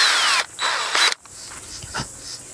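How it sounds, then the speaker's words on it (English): Power drill with a 3/8 inch bit boring into a carved wooden pumpkin, two loud high whining bursts separated by a short pause, followed by quieter handling knocks and scraping. "Here's the drill that I use. I think it's a 3/8 inch drill bit."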